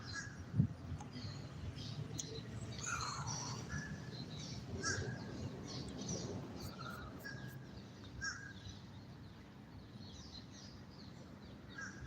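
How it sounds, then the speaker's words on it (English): Crows caw several times outdoors, the calls scattered and moderately distant over a low background rumble, with no one speaking. "There's my crow buddies."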